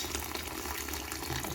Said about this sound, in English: I have to add water. It's hot water, so to make it quickly cooked.